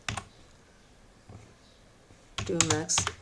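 Typing tmux commands on a computer keyboard: a few soft, scattered keystroke clicks, followed by a voice speaking over a short burst of keys near the end.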